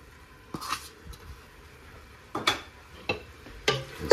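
Garlic and onion being stirred in a pan: a few separate scraping strokes of a utensil against the pan, spaced out over a quiet, faintly sizzling background, with no talking.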